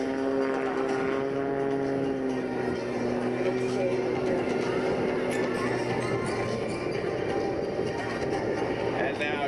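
Aerobatic propeller plane flying a low, slow pass at an air force base open house air show, its steady engine drone shifting in pitch as it passes, with a voice talking over it.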